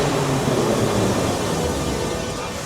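Tbilisi metro train in Georgia running through a tunnel, a loud, steady broadband roar and rumble that fades slightly toward the end, with no clear voices over it.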